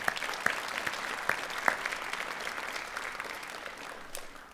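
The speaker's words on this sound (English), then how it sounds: "So let's give them a round of applause as well" A graduation audience at a high school ceremony applauds steadily, a dense wash of clapping with a few sharper individual claps standing out, fading slightly toward the end.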